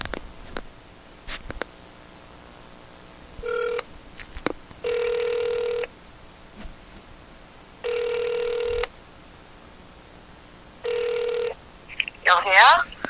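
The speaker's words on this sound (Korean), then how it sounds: "모가비와 전화 연결 해보겠습니다" Ringback tones sound while a phone call is placed, about four evenly spaced one-second buzzes separated by pauses, with small handling clicks and a brief rustle at the end.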